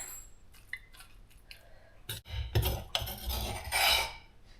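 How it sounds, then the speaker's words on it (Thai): A spoon scrapes and scoops food out of a dish in a home kitchen, with soft metallic clinks and scraping strokes that build into a busier cluster of close, moderately loud scoops toward the end. "แล้วเราก็จะตักนะคะ"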